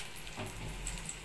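Lentil and pennywort fritters frying in hot oil, a soft continuous sizzle and crackle at low level with no talk.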